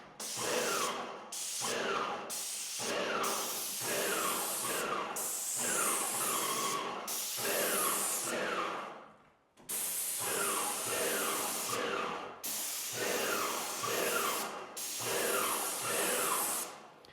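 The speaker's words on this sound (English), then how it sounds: "it's already been primed, so I just need to spray" A Graco Magnum X7 airless paint sprayer hisses loudly in long steady bursts over a primed surface, cutting off briefly between passes, with no talking.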